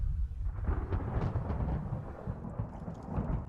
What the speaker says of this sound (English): And here comes the storm,